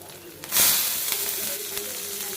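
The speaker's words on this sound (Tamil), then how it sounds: "நல்லா வதங்கிறது வெங்காயம்" Onions sizzle in hot oil with chili and chopped garlic after a sudden burst of hissing as they hit the pan, settling into a steady close crackle.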